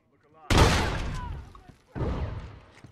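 A tactical shotgun fires twice in a video game, two loud booming blasts about a second and a half apart, each trailing off with a rumbling decay.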